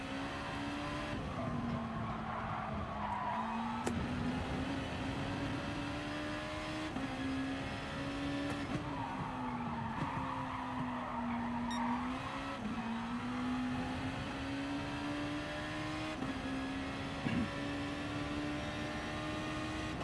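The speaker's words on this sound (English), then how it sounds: "Let's just try and look after the rear tyre as I drift it." Race car drifting in GT Sport, with a steady engine drone rising and falling through shifts and continuous tyre squeal running throughout, heard close without talk.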